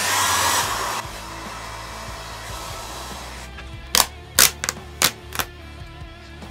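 A heat gun warming a graphics kit decal blows a steady airy whoosh, then stops, followed by several sharp clicks or taps in quick succession.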